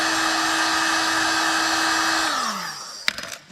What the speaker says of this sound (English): So take a heat gun and we'll heat it up.